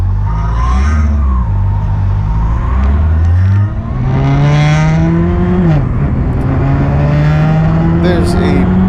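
Honda CB400SF Hyper VTEC motorcycle engine on an Okinawa road near Uruma, a loud close drone rising in pitch through gears with wind noise, while someone talks over it.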